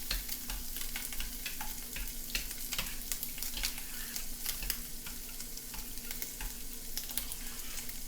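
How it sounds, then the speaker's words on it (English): Hawaiian meatballs in sauce being stirred in a pot, a steady soft sizzle with scattered scraping and clicking from the spoon, quiet and close with no voices. "I'm going to give this a stir."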